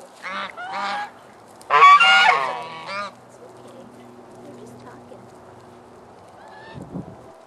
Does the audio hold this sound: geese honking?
yes